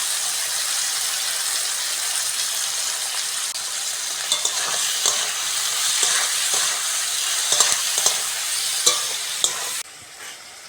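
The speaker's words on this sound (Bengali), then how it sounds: "পেঁয়াজ আর টমেটোটা হালকা করে ভেজে নিয়েছি। এবার আদা রসুনটা দিয়ে দেবো।" Onion and tomato fry in a pan as ginger garlic paste is added, a steady close sizzle with a spoon scraping and stirring in repeated clicks, alone without talk.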